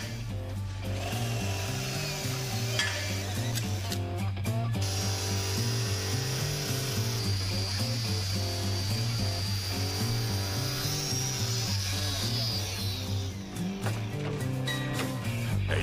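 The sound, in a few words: cutting plastic part of a Dakota truck bumper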